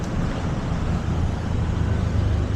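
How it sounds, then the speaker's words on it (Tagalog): Street traffic rolls past in Makati along Arnaiz Avenue, a steady low rumble of cars, trucks and buses, close and continuous, with no talk. "Tignan mo, traffic."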